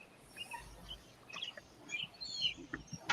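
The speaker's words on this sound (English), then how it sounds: "Who got the birds?" Birds chirp and sing outdoors along a walk to work, scattered high calls coming and going at moderate distance over a faint background hum, with no talking.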